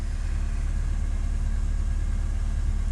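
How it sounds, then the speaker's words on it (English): A car with an automatic gearbox idles a little high just after a carburetor adjustment, a steady, close, continuous engine rumble with no talk. "So running on the high side at idle."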